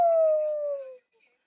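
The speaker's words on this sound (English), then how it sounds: "Yeah, all done howling." A husky lets out one short howl that slides gently downward, clear and close, then fades into quiet after about a second.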